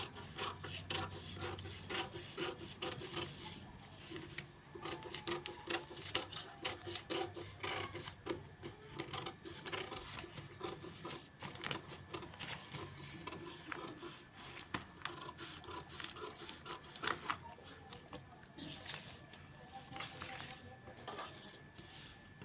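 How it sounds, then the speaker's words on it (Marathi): Blouse fabric for a size-40 front piece is cut during tailoring. A soft, continuous rasping and rubbing of the cloth runs steadily throughout, close but faint. "कटिंग करताना आता हा इकडचा भाग कट करायचा"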